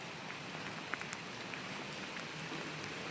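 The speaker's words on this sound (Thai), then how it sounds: "บรรยากาศก็อาจจะอึมครึมหน่อยนะ เพราะว่า ฝนตกนะครับ ฝนตกนะ" Steady rain falls on an old tram-rail site at Sanam Luang in Bangkok, a soft continuous patter with a few faint drops standing out, no voices.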